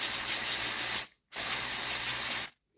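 Contact cleaner sprays onto a Hornby model train motor in two close, loud hissing bursts, each about a second long, separated by a short pause, with no talking.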